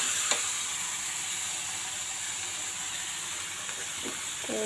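Food sizzling steadily in a hot pan while being stirred, a constant loud frying hiss with a few scraping clicks of a utensil against the pan.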